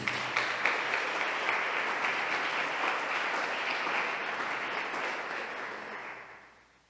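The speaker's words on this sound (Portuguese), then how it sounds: "Aplauda Jesus por isso." A church congregation claps during a sermon, dense sustained applause at moderate level that gradually fades out over the last second or two.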